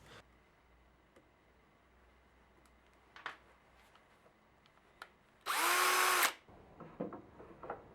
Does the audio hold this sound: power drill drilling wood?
yes